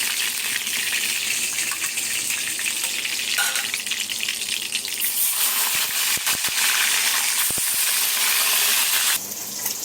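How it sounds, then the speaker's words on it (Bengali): Pieces of rui fish fry in hot oil, a loud, continuous bright sizzle with scattered pops and brief utensil clicks, the crackle easing slightly near the end. "আমার মাছ ভাজা হয়ে যাচ্ছে, এখন আমি তুলে দিচ্ছি"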